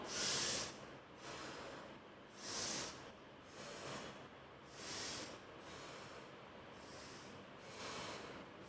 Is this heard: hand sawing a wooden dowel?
no